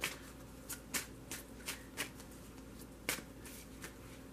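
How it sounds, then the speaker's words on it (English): Tarot cards are shuffled and drawn by hand at close range. About ten quiet, crisp snapping flicks come at uneven intervals against a faint background hum. "I'm going to get a couple more cards here."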